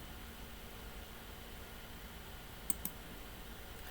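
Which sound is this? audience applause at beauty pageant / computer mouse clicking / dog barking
computer mouse clicking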